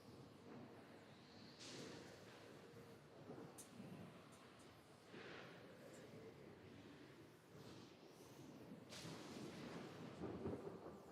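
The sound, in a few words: thunder and lightning storm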